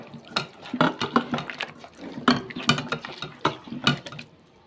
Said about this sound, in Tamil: சிக்கன் சிக்கனில் சேர்த்துட்டு நல்லா மிக்ஸ் பண்ணி விட்டுலாம்